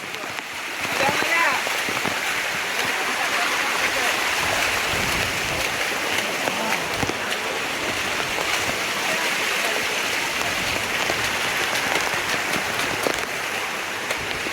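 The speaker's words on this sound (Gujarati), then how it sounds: "ખતરનાક વરસાદ છે ભાઈ" Steady, dense rush of heavy monsoon rain pouring down in the Girnar hills, Junagadh, a constant loud hiss with no letup throughout.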